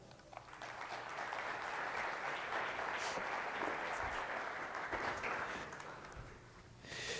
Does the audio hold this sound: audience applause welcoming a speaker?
yes